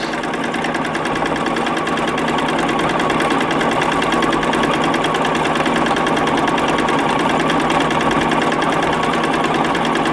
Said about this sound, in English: I find that my machine stitches a lot faster and better when it's going fast.